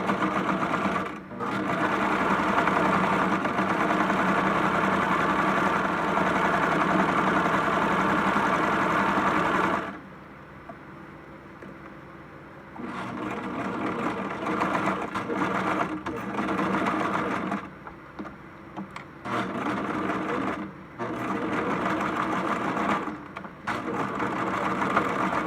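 A sewing machine stitches a quarter-inch fabric seam in steady mechanical runs, loud and close, stopping for a pause near the middle and then resuming in shorter bursts with brief halts.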